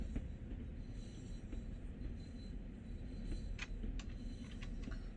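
A train rolls along the track in the Train Sim World video game, a low continuous rumble with faint wheel squeals and clicks rising near the end.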